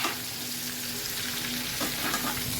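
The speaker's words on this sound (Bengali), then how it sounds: "এবার এটাকে ভালো করে তেলে ভেজে নিতে হবে।" Something sizzles steadily in hot oil for alur dom, a close, continuous crackling fry with a faint stirring scrape partway through and no voices.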